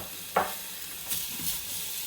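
Bread crumbs tipped into melted desi ghee in a pan, giving a brief soft sizzle and stirring scrape at the start, then quieter intermittent frying crackle and stirring, close and low in level with no voices.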